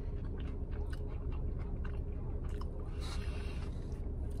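Close, steady chewing on a thin-cut pepperoni pizza crust that is crunchy on the bottom and doughy in the middle, with sauce; repeated soft crunches and squishes in an even rhythm, heard alone without talk.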